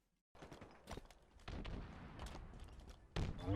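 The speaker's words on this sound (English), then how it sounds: "And we can hear more grenades" Grenade explosions in the shooter Halo Infinite, several heavy thuds and blasts in succession with crackling debris and distant gunfire between them, moderately loud.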